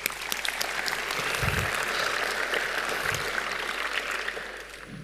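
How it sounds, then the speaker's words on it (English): Audience applause at the KDD 2024 annual celebration honoring paper authors, a dense, steady clapping from a large hall crowd lasting the whole stretch and fading slightly at the end. "Let's get one round of applause to all the authors"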